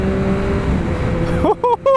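A 2022 Yamaha XSR 900 motorcycle engine hums steadily and then blips its throttle in a few sharp, loud revs near the end, heard close up.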